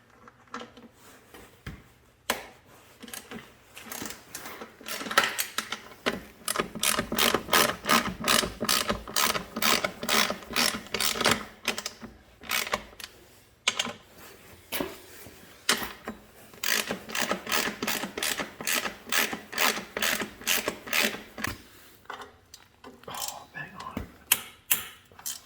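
A ratchet loosening bolts on a Yoshimura titanium exhaust fitted to a Honda CRF250R dirt bike, with long runs of rapid close clicking broken by brief pauses and a voice talking now and then.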